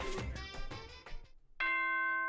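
Ding-dong announcement chime from the video game Danganronpa, a single bright two-tone electronic chime ringing out clearly at the end after a brief bit of other in-game sound.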